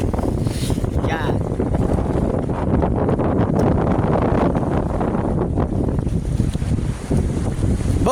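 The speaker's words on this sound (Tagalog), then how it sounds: "lakas ng hanging norte. Walang mga bangkang lumaot, malaki ang alon." A strong northerly wind roars against the microphone at the coast while big waves crash and surge, with no boats out on the water; loud and constant throughout, with the rumble of surf under the buffeting gusts.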